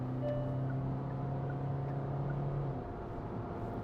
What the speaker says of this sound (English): now listen to the engine